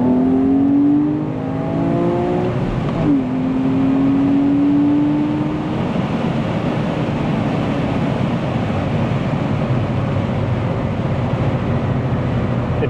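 A Porsche 911 Carrera 997.2, the last generation without a particulate filter, revs and then accelerates, a loud rising engine tone stepping through a shift before settling into a steady roar with road noise.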